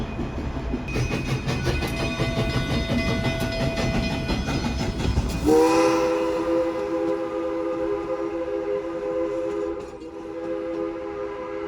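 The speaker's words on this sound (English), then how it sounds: "The Durango Silverton train." The Durango Silverton tourist train's horn blares in long sustained tones over the heavy rumble and clatter of the train passing through town, close by and loud.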